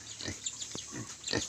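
A native pig on a rural Philippine farm grunts and snuffles while being hand-fed, with several close, rough grunts coming in short bursts and a sharp snort partway through.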